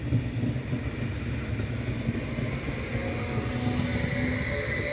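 A Stadler FLIRT passenger train passes through Schüttorf station, a steady broad rumble holding at constant strength for the whole stretch, near and without voices.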